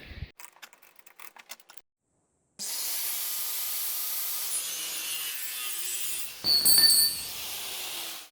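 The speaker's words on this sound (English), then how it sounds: "I'm going to cut my gearbox in half. Let's get cutting." A few light taps, a pause, then a saw cuts steadily through a gearbox casing, a continuous close rasping grind that swells louder near the end.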